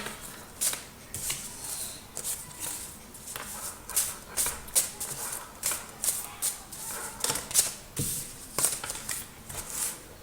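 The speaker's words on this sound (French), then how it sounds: "je vais tirer quelques cartes de l'oracle de la spiritualité de Tony Carmine Salerno" Oracle spirituality cards are shuffled by hand at close range, a rapid series of crisp riffling flicks and slaps in uneven bursts, with no talking.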